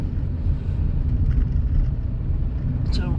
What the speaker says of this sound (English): just let out the clutch, and there's got the biting point